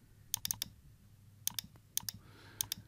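Crisp computer mouse clicks come close and fairly quiet, mostly in quick double and triple bursts separated by short pauses, with no talking.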